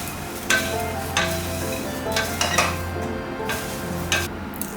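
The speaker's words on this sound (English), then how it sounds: "Add some black salt and give everything a good mix." Hot namkeen being stirred in a pan with roasted ingredients and black salt, soft sizzling underneath with several distinct scraping strokes of a spoon against the pan at irregular intervals.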